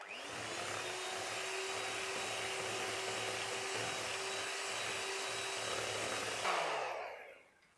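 Electric beater whirring steadily through cake batter for a chocolate lamington cake, a loud continuous motor hum with a faint rattling pulse, running alone for about six seconds before winding down.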